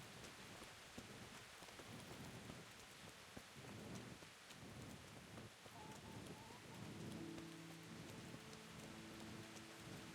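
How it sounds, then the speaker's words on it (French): Steady rain patters down with low thunder rumbling underneath in the video game Kingdom Come: Deliverance, quiet and continuous throughout. "Ah, la pluie est tellement bien faite"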